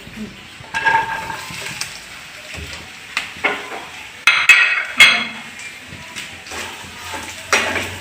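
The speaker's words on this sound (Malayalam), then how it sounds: "അടുത്ത നമുക്ക് ഇനി കൊട്ടത്തേങ്ങ വറുക്കാം" Dried coconut roasting in a pan, with scattered clinks and scraping knocks of a spoon stirring against metal over a faint sizzle, irregular and close.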